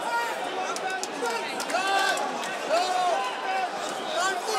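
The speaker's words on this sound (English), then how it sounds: "The crowd was going wild." Crowd noise at a kickboxing fight, with a loud, continuous roar of cheering and shouting that carries through the whole stretch alongside voices.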